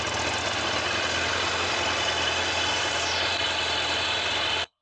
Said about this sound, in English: When I turn off the engine,